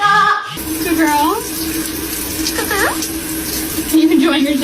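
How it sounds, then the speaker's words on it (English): A pet parrot is sprayed by steady running shower water that hisses loudly throughout, while the bird gives several short rising squawks and chirps over the spray. "Are you enjoying your shower?"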